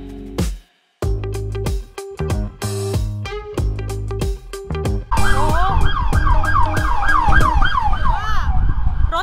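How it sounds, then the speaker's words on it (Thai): Police car sirens on a Los Angeles street in Larchmont: choppy, pulsing street sounds give way to a loud, close wailing siren that rises and falls repeatedly. "รถตำรวจตอนนี้แบบว่า เยอะมากเลยนะคะ"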